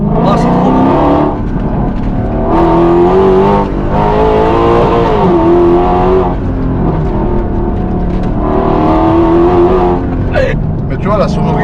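A Mercedes C63 AMG engine while driving, loud and close from inside the car, rising and falling through several gear pulls with people talking over it.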